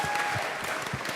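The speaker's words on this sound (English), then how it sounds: "Give her a round of applause" A crowd at a comic convention Q&A session claps, a brief, moderately quiet burst of applause.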